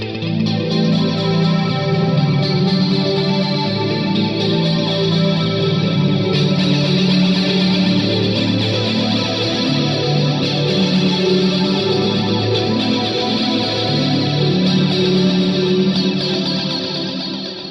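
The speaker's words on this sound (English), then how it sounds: "this is a point where this really starts to sound kind of shoegaze appropriate or dream pop appropriate" Electric guitar through a shoegaze preset on an old rack processor, heavy with reverb and chorus modulation, forms a dense, continuous, shimmering wash of sustained chords and notes with no pauses.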